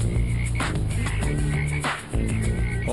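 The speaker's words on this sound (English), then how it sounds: "What force of nature brought a plague of bullfrogs to the Southwest?" Bullfrogs croaking in the American Southwest, a dense overlapping chorus of deep calls that runs steadily and loud throughout, with no voices present.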